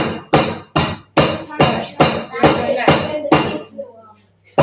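A rolling pin is used as a mallet, bashing hard in a steady series of about eight loud, sharp blows spaced roughly half a second apart, close by, with a pause at the end.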